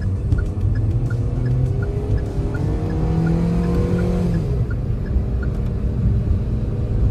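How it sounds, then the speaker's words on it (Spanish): Small-engined 2021 Hyundai Grand i10 climbs a slope in third gear at full throttle, its engine note rising steadily and loud throughout. "Acelerador a fondo."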